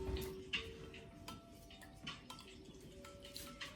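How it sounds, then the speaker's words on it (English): A tiny whisk beating egg yolk mixture in a bowl, giving quiet, quick ticking clinks against the sides in an uneven, continuous rhythm, close and faint. "Whisk until it's thick and frothy"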